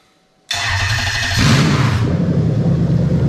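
A Toyota UZ-FE VVT-i engine in an Andreas GS cranks and starts abruptly after silence, then settles into a loud, steady idle close by.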